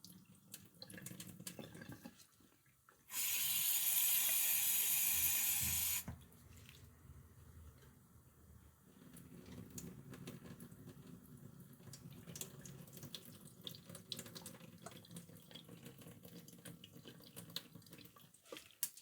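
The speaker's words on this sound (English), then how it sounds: "Just give it a quick rinse." Running tap water gushes loudly and close for about three seconds during a quick rinse, then gives way to quiet handling noises.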